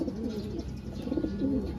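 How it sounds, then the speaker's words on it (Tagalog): A pigeon coos nearby in repeated soft, low, rolling phrases, loud and close, with no talk over it. "dito sa ibon na to"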